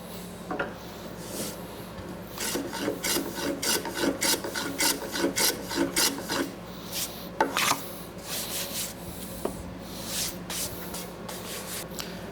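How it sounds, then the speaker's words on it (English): A hand plane shaves a dovetailed wooden box in quick, rasping strokes, dense and rhythmic through the middle stretch, then sparse scattered scrapes, close and moderately quiet. "With the hand planing done"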